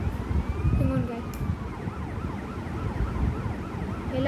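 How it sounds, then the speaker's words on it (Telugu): A wailing police vehicle siren from the video game GTA Vice City, its pitch sweeping up and down in steady cycles over engine rumble, continuous and prominent throughout. "ఏమంటే సైరన్ సార్,"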